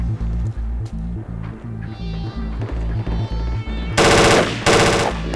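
Gunfire from a bolt-action rifle in the Project Reality military shooter game: a loud continuous rumble of battle noise, then two sharp, heavy shots about half a second apart near the end, with no speech.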